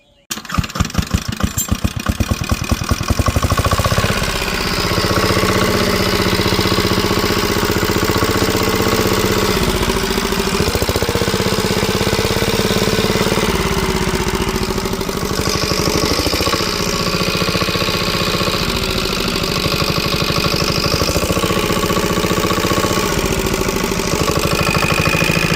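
A diesel shallow-machine irrigation pump engine for a potato field cranks with rapid chugging, catches, and then runs at a loud, steady idle close by.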